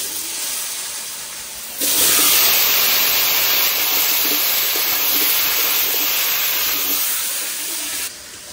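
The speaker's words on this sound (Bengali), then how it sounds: "মাছটা ভাজা হয়ে গেছে, ওই তেলে আমি এই কলাগুলো একটু ভেজে রাখবো" Plantains frying in the oil left over from frying hilsa fish, a loud steady hiss of sizzling oil that bursts in suddenly and holds for several seconds before dropping back to a quieter simmer.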